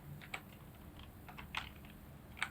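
A computer keyboard typed on briefly while searching in Windows settings: three sparse, faint keystroke clicks spread over a couple of seconds against a quiet background hum.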